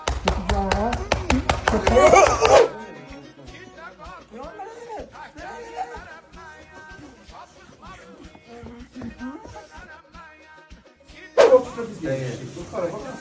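A dog barks in a quick run of loud bursts, goes quiet while people talk, then barks again near the end.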